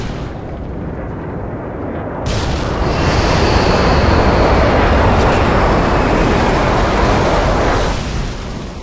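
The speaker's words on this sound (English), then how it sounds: "Friendly airstrike on the way." Explosions from a friendly airstrike in Modern Warfare 2 headquarters multiplayer: a steady, loud roar of blasts and rumbling debris that swells after a couple of seconds, holds, then fades slightly.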